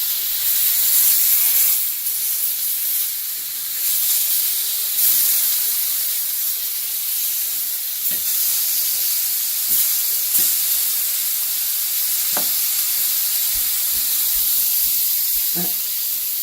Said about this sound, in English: Starting to lessen the amount of steam.